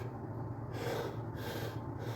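Deep chest breaths during a breathwork demonstration come as airy, close inhale-exhale rushes in an even rhythm over a low steady room hum, with no talking.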